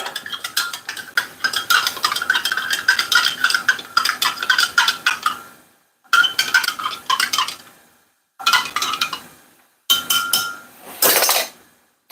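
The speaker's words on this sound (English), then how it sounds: "give it a good stir, just keep stirring it until it's all dissolved" Metal utensil stirring and clinking against a pot while making cottage pie, loud rhythmic scraping and clattering in bursts separated by short silences, with no speech.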